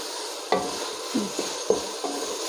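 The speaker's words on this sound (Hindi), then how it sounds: "अब इन टमाटर और मसालों के साथ कीमे को अच्छी तरह भून लेंगे।" Minced keema fries with tomatoes and spices in a pan under a constant sizzle. Several distinct scrapes and clinks of a spoon against the pan come at irregular intervals on top of it.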